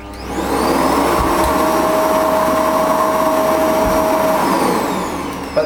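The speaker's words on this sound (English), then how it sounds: "I've just got in this Electrolux Z8240 vacuum cleaner" An Electrolux Z8240 vacuum cleaner with a faulty, non-working power head runs loudly and steadily with a high whine on top, powering down near the end.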